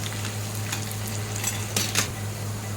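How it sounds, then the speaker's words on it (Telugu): Steady crackling sizzle of tempering spices frying in hot oil until golden brown, with a low hum beneath and a couple of brief louder spatters near the end. "ఇలా బాగా గోల్డెన్ బ్రౌన్ వచ్చే వరకు ఫ్రై చేసుకోవాలి"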